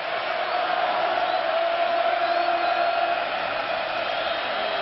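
A sellout stadium crowd roars steadily at a Missouri homecoming college football night game against Texas, a dense and constant wash of cheering that holds at the same level throughout.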